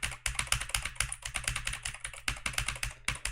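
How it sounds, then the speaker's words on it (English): Rapid, close clatter of computer keyboard keys in quick bursts with brief pauses, fairly loud and unaccompanied by speech. "when I'm typing, I'm going like this."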